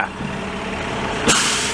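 An old Volvo truck, roughly twenty years old, rumbles at a snow dumping site in Montreal's Lachine sector, its engine idling low before a sharp burst of air brake release near the end.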